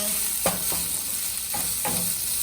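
Green chillies and vegetables sauté in a pan for egg fried rice, a steady close sizzle broken by a few sharp spatula scrapes as they are stirred, no voices.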